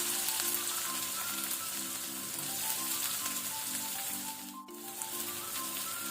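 A large chopped onion frying with cumin seeds in hot oil over a low to medium flame gives a steady, dense sizzle that continues throughout, with a short dip in the middle before it resumes.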